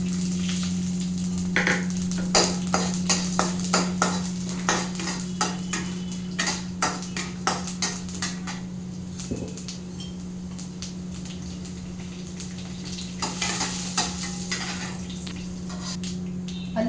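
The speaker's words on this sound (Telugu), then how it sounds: "పోపులు వేసుకోవాలి" Tempering spices crackle and sizzle in hot oil for a flattened-rice pulihora, popping in rapid irregular bursts over a steady background hum, with occasional spoon clinks against the pan.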